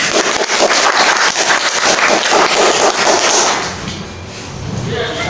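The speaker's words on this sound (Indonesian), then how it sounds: "Beri tepuk tangan yang meriah untuk teman" Applause in a classroom as a student group comes forward to present, dense broadband clapping filling the room for several seconds, then thinning out near the end with some background murmur.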